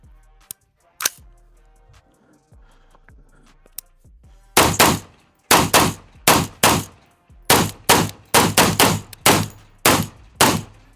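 PSA rifle fired at an outdoor shooting range, a string of about a dozen sharp, loud reports in quick irregular bursts, each with a short ringing decay, preceded by quieter handling clicks.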